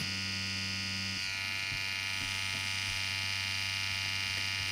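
A tattoo machine buzzes steadily and close while lining skin, a constant electric hum with a slight shift in pitch partway through as the needle rides the tube; no talking.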